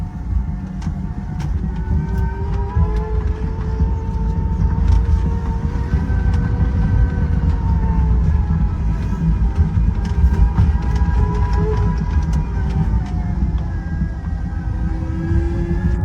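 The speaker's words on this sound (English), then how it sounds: "When riding, there's a humming sound from behind." Electric tricycle riding on a cement road, its motor giving a steady hum with rising and falling tones over continuous low road and tyre rumble, close and fairly loud throughout.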